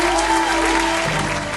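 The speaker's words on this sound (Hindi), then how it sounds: "जोरदार तालियां हो जाए" Audience applause fills a singing reality show stage, a dense steady burst of clapping from the crowd lasting throughout, loud and close.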